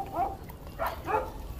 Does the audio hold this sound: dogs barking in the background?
yes